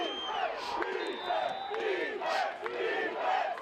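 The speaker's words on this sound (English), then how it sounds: "Geneseo crowd getting into it" A football crowd at a Geneseo game against Phillips cheers and roars steadily, swelling in repeated surges with whistles and shouts layered over the dense roar.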